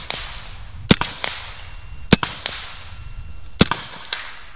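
A BinTac S45 Mini is shot at a target 55 yards away, giving three sharp snapping releases, each followed by a fainter secondary crack, spaced about a second apart over a low outdoor background.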